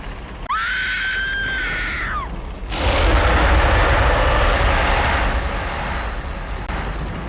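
Anne lets out a long, loud, piercing scream in the King Kong video game, held for a couple of seconds before a roaring, rushing blast of noise takes over.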